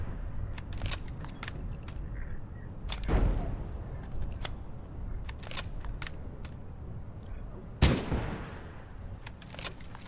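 Gunshots in the video game Abiotic Factor, two sharp reports several seconds apart over a steady low rumble, with lighter clicks and taps scattered between them.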